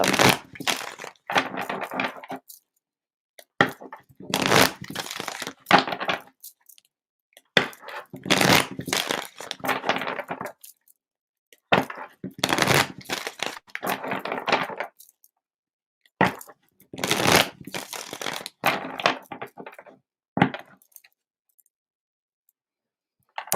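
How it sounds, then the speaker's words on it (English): Tarot cards being shuffled in a series of brisk riffling bursts, about eight bouts separated by short silences, close and fairly loud with no voices. "I'm going to get some clearing shuffles in."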